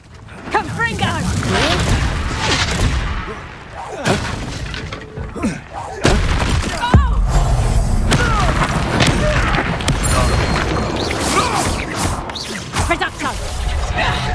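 Confringo blasting spell exploding in the Hogwarts Legacy video game, heavy booms and crashes with whooshes and thuds in a busy duel, loud and sustained with sharp hits around the middle, voices heard amid the fighting.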